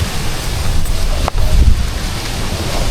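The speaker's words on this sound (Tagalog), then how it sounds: "Maulan, malakas ang hangin." Strong wind and rain outdoors in Central Luzon during stormy weather, a loud steady broadband roar of gusting wind and rainfall filling the whole stretch without a break, with a brief dip and a low rumble partway through.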